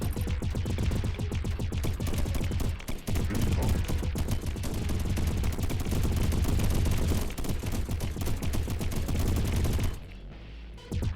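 Gun turrets in the swarm-survival strategy game Deep Amon fire in a loud, nearly continuous barrage of rapid overlapping shots for about ten seconds, dropping briefly before resuming.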